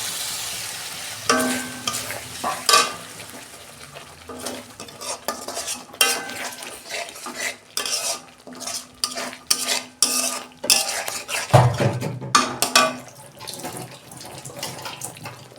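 Fried egg-curry masala stirred in a pan after a little water goes in, giving wet sizzling and bubbling with repeated scraping, clattering strokes of a spoon, some loud knocks, and a brief burst of splashy hissing near the end.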